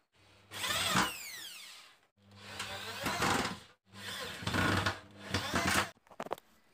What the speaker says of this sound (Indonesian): kita tetap sekrup dari menyamping dan ke atas kanan kiri sama kita kasih dua sekrup